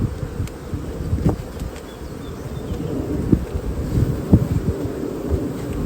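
A dense, low hum of many honey bees buzzing steadily up close in an open hive, with occasional soft bumps and thuds of frames beneath the drone.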